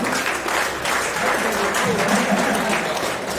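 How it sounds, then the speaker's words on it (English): Audience at a boxing hall-of-fame induction ceremony applauding a guest called to the stage; sustained, dense clapping from a sizeable crowd, loud and continuous, with faint voices mixed in. "big round of applause for Brad, please, ladies and gentlemen"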